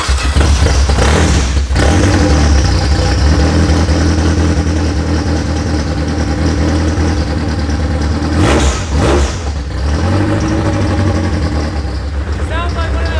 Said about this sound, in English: Sounds like one of them drag racing Hondas.